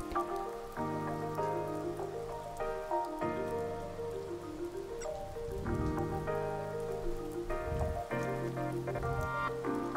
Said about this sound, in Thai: มันกำลังฝนตก